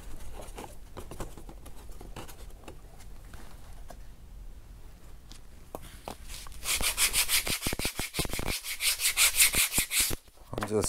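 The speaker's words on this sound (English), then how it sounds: "I'm just sanding these here" Sandpaper rubbing on a fiberglass dashboard piece during repair, starting as soft scattered scuffs and building into loud rapid back-and-forth rasping strokes up close.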